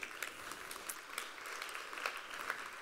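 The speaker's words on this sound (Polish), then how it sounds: "To są klaski dla mądrości naszych ojców" Faint applause from a church audience at a lecture, a soft steady patter of many hands with scattered sharper claps, quiet and distant, with no voices on top.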